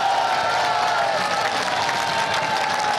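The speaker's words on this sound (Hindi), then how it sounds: "ताली दो बजा दे आप मेरे साथ मिलके" A crowd at a political rally in Pakistan claps steadily in a dense, even wash of applause, with a little cheering and crowd noise mixed in throughout.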